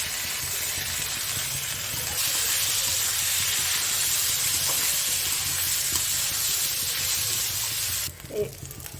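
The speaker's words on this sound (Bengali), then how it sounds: "আমি আর একটু ভালো ঘি দিচ্ছি, চাল ডালটা ভেজে নেব।" Gobindo bhog rice and lentils frying in hot ghee, giving a loud, steady, close sizzle and hiss that holds almost unbroken before dropping away near the end with a small clink.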